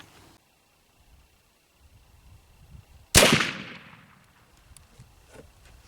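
A single loud, close shot from a .36 caliber muzzleloading long gun fires after a quiet pause, a sharp crack followed by a decaying boom and rumble, with no one talking.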